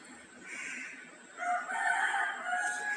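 Mother hen and chickens being let out of a coop to feed, with a rooster crowing and fowl calling at moderate distance, two bursts of crowing-like calls with steady farmyard background.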